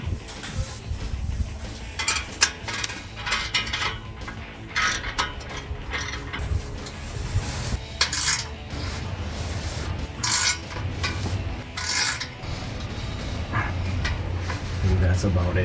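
Ratchet with a 15mm socket tightening the exhaust pipe clamps on a 2015-2022 Dodge Challenger 3.6L during an MBRP cat-back install: bursts of rapid close clicking that come and go, with a person talking over them.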